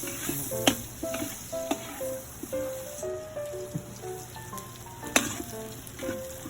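Garlic frying in a pan gives a steady, close crackling sizzle with sharp pops and light clicks of stirring throughout, with no voices.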